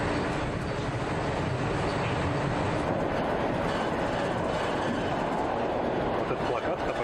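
Rumbling interior of a passenger train travelling toward Vladimir, a steady broadband roar with faint rail clatter running throughout, with voices talking faintly beneath it.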